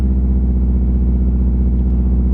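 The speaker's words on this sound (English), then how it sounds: "It is cold, as you can see, so that was a cold start." A 2003 Subaru Forester with a swapped EJ205 engine running close by after a cold start, a steady low rumbling idle with a faint rhythmic pulse, no voices.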